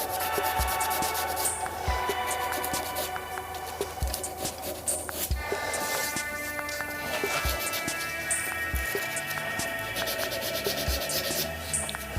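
Sandpaper rubs a wooden shaving brush handle in repeated strokes with a soft, scratchy rhythm, near and moderately quiet, broken by occasional light taps.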